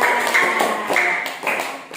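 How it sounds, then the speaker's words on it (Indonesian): Children clap in a classroom lesson with a few sharp, scattered hand claps rather than a full sustained round, fairly close and moderately loud. "Tepuk tangan kita semua"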